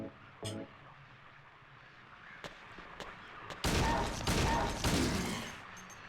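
Gunfire in the survival horror game Silent Hill 2: Enhanced Edition, with one early sharp shot followed later by a dense run of loud, close, overlapping blasts and a few faint thin pops between.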